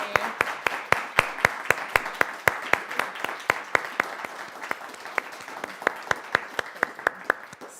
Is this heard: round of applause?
yes